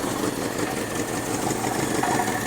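A Daihatsu 4WD, parked for six years, idles with an exhaust blow, a steady rough, uneven rumble with a hissy, chuffing edge, close and continuous with no talk.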